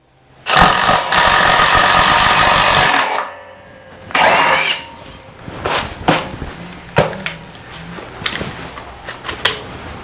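A Metabo 36V triple hammer impact driver bores a one-inch hole: a loud sustained burst of hammering drive for about three seconds, a shorter second burst, then scattered clicks and knocks close by.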